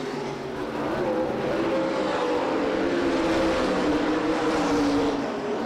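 Modified stock race cars roar at Winchester Speedway on the high-banked half-mile oval, a loud and continuous engine drone that holds steady for several seconds with a slight rise and fall in pitch as the cars run through the turn.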